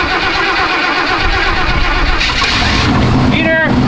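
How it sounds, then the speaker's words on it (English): An old dump truck engine cranks and rumbles into life under a steady, loud mechanical roar, with a voice briefly heard over it. "So I'm gonna fire up the old dump truck"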